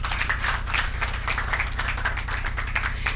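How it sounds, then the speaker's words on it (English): Steady audience applause at a policy round table, many hands clapping continuously at a fairly loud, even level with no talking. "Let's give him another round of applause."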